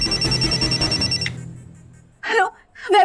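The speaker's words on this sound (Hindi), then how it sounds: "देखिए किसी अननोन नंबर से फोन आ रहा है सर।" An electronic phone ringtone from an unknown number rings loudly in a fast repeating pattern, then stops; a person speaks briefly twice afterward.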